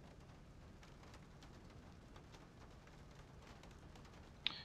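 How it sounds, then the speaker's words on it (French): Steady, even rain pours throughout a scene in the adventure video game Syberia, a constant soft hiss with no break and a single sharp click just before the end. "Il pleut encore beaucoup."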